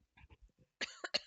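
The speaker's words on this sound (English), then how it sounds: "Excuse me, I'm going to cough." A person coughs a few times up close, each cough short and rough after some soft low throat noises, fairly faint in a quiet space.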